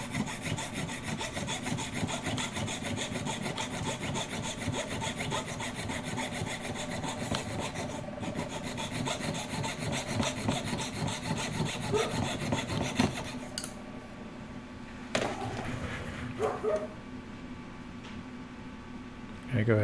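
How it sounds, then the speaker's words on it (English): A jeweler's saw cuts across a silver ring held on a bench pin, making quick, steady rasping strokes close up, then slowing to a few scattered scrapes near the end. "pull out your bench pin, jeweler saw, and you're going to make a cut right across those 2 lines"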